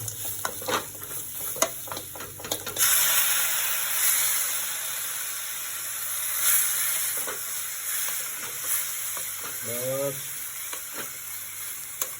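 Tadka tempering is poured into a hot pan, setting off a sudden loud hissing sizzle that follows a few clattering stirs and then settles into steady frying with occasional scrapes and brief voices.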